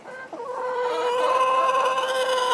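Hens in a henhouse attacking a newly added hen make a close, steady run of clucking and drawn-out squawking calls that rise and hold without pause.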